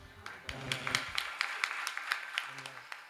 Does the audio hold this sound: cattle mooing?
no